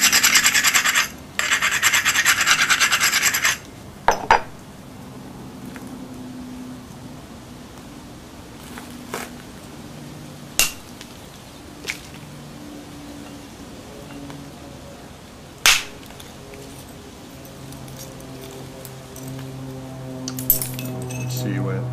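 Stone tool knapping: a rough rasping scrape of stone, then scattered sharp clicking strikes as a thinning flake is struck off, each tap brief and isolated against a quiet background.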